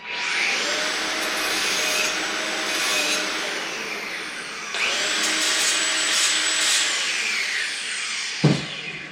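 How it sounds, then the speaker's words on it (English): A buffing wheel spins steadily as it deburrs a 5/16 drilled hole in a steel brake bracket for a 1966 Galaxie 500 disc conversion, a sustained rushing whine with a brief dip midway and a sharp knock near the end. "I'm just going to clean it up a little bit with my buffing wheel"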